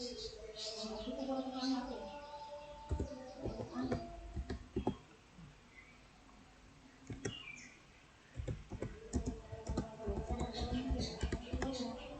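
Keystrokes on a computer keyboard as a network command is entered in a VirtualBox virtual machine, short clusters of close clicks between stretches of talking.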